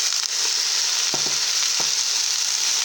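Chopped yu choy stems sauté in a hot pan with a constant loud sizzle, broken by a few sharp clicks from stirring, with no voices.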